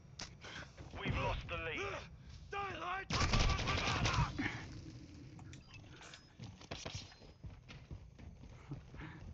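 Enemy gunfire in Call of Duty Modern Warfare 2, with scattered shots and a louder burst partway through, mixed with footsteps and voices talking.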